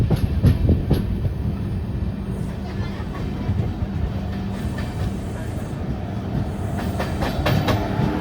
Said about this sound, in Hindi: और दूसरी तरफ से भी पीलीभीत से चलने वाली एक पैसेंजर है जिसका ओवरटेक हो रहा है।